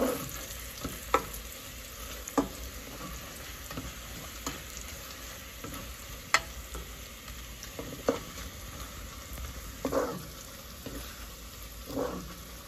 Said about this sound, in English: as long as you don't allow it to burn, you keep stirring it